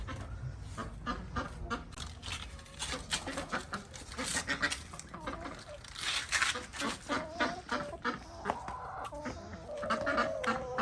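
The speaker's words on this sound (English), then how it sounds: "my chickens are destroying the garden." Chickens cluck and squawk close by in a garden in a busy, irregular chorus, with a few louder calls rising over the flock.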